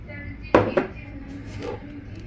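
A spoon clinks sharply against a cup twice while coffee is stirred, with a quieter scrape following, close up in a small kitchen.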